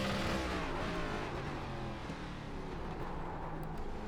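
An ARCA race car in the iRacing sim at the Chicago Street circuit roars under heavy throttle, a loud continuous broadband engine snarl that sweeps slightly in pitch as the car slides sideways.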